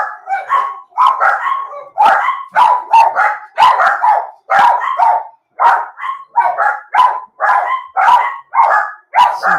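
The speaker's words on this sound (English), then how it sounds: "Some dogs." Several dogs bark loudly and continuously nearby, sharp overlapping woofs and yips coming in a steady, excited rhythm with no pause for the whole stretch.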